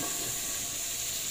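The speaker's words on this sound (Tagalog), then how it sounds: "Ating tunawin yung margarine." Margarine melting in a hot pan while cooking a lunch of crab, mussels and shrimp, giving a steady, close broadband hiss and sizzle that holds evenly throughout with no talk.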